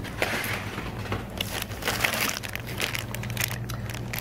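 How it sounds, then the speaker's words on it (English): Packaging with ice around a chilled drug for koi fish is pulled open, giving close, irregular crunching and crinkling rustles with clattery bits, continuous and fairly loud, no talk. "There's a lot of packaging and ice."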